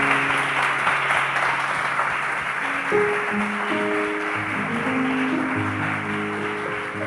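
A church congregation claps in a continuous wash of applause during an evangelical sermon, steady and fairly loud, with sustained organ or keyboard chords underneath.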